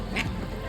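A duck quacks twice, short nasal calls close by, over a low rumbling background near water where the duck is being fed.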